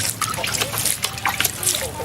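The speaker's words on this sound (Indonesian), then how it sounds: "kita siram seperti ini" A liquid probiotic mixture is poured over fermented goat feed, giving short splashy trickles and spatters close by, heard under a person talking.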